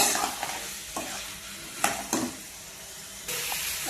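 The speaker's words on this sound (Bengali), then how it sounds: "এর ভিতরে সবজিটা দিয়ে দিলাম। এবার ভালো করে কষিয়ে নেব" Mixed vegetables are stirred and fried in a spice masala, with a low background sizzle broken by several sharp scraping and clattering strokes of a spoon against the pan, close and without speech.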